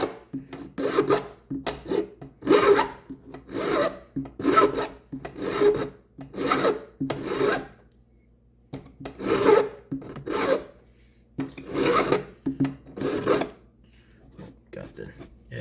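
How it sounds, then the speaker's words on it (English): A metal file is pushed in repeated rasping strokes across a workpiece during repair of a Stihl BR600 backpack blower, with about a dozen close, evenly spaced scrapes separated by short pauses. "You push a file up the workpiece."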